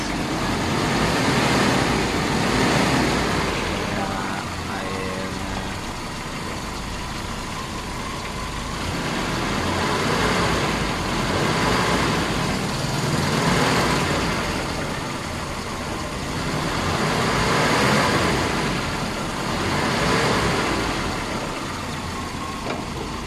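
A Toyota Kijang engine runs steadily during a radiator flush, a loud continuous mechanical drone that swells and eases in slow repeating waves, with no voices over it.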